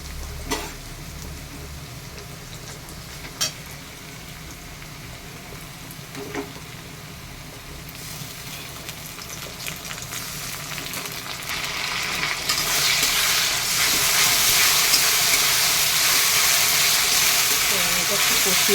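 Onions that have turned reddish, with ginger-garlic paste added, sizzle and fry in a pan while being stirred, a steady hiss that swells louder and brighter toward the end, with occasional scraping knocks and a voice talking over it.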